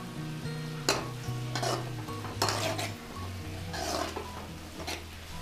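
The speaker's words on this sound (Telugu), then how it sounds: "పచ్చి వాసన పోయే వరకు ఫ్రై చేసుకోవాలండి. కరివేపాకు వేసుకుందాం." Curry leaves frying in hot oil in a pan for a boiled potato fry, with a steady sizzle broken by several bursts of scraping stirring, close and moderately loud over faint background music.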